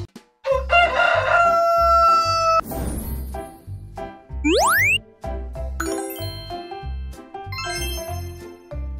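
A single loud rooster crow rings out near the start, set against a pulsing music bed, with bright chiming tinkles and a rising sweep sound later on.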